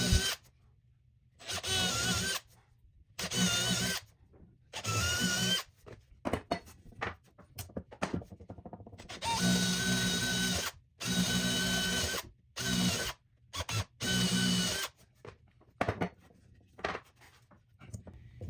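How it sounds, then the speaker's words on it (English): A hand-held drill bores into wood for a wedged through tenon, in repeated bursts of whirring and grinding broken by short pauses, close and fairly loud. "now don't go all the way through, because if your drill is on an angle"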